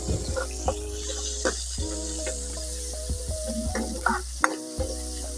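Onion fries in hot oil with a stew base while being stirred, making a steady soft sizzle punctuated by scattered clicks and scrapes of the spoon, over a constant low hum.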